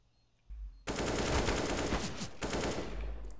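Gunfire in a Counter-Strike video game match: after a quiet, low start, a sustained burst of rapid automatic fire begins and continues loudly to the end, with brief shifts in intensity.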